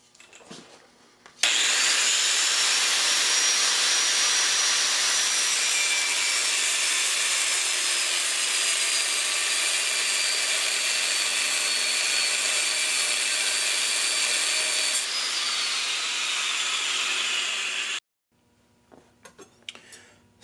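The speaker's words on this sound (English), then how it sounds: "the next thing that I have to do with this blade is to grind in our little shelf" Grinding a guard shelf into a hand-forged Scottish dirk blade, a loud, continuous high-pitched grinder whine lasting about fifteen seconds, close to the listener, with faint noises before it starts and after it stops.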